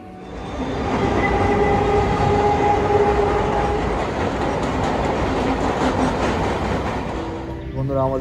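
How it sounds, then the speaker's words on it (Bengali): Kanchanjangha Express pulling into a station platform, a loud, steady rumble of wheels and carriages with clickety-clack and a faint squeal, the roar fading slightly as it slows. "আমাদের ট্রেন ফাইনালি এসে গেছে, প্রায় জাস্ট 5 মিনিট লেটে এলো"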